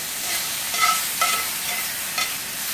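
Sliced steak sears in olive oil alongside vegetables in a hot pan for a spicy Philly cheesesteak, producing a loud, close, continuous sizzle with a few brief stirring clatters.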